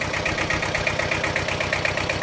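Old Japanese two-cylinder 15 hp tractor engine idling steadily nearby, a continuous low throbbing chug with a rapid even pulse and a buzzing mid-range drone throughout.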